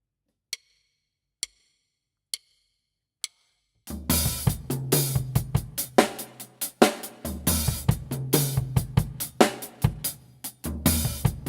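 Four evenly spaced stick clicks count in, then a slow drum kit groove kicks in with booming bass drum hits, snare and steady hi-hat.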